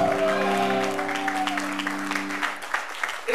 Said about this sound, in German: Riesen Applaus